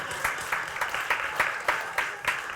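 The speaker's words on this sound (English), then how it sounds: "Applause, please." Audience at a theater magic show clapping in a steady, rhythmic applause, moderately loud with regular hand-clap beats about every quarter second.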